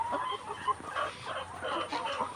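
Layer hens on a poultry farm cluck and murmur during a hand-held health check, a continuous soft chorus of overlapping clucks over a low steady background hum.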